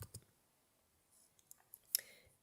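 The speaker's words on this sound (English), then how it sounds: "So we're going to click on summary." Faint computer mouse clicks land on a Summary button, a few soft ticks scattered across a quiet background, with one sharper, brighter click standing out near the end.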